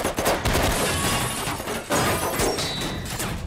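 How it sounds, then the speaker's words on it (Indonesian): Dense, loud bursts of gunfire crackle through a chaotic, crashing din, with heavy impacts and sharp cracks packed closely together. "Tembakan Melvin itu seketika membangunkan John CS"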